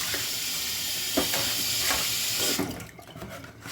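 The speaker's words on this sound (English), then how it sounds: "do a good wash and rinse" Pork is rinsed under a running tap, a steady broadband rush of water with a few splashy bursts as the meat is moved, cutting off near the end; no talking.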